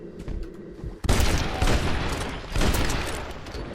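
Loud bursts of rapid gunfire cut down zombies in Red Dead Redemption: Undead Nightmare, two heavy volleys after a quieter lead-in, close and harsh with no talking.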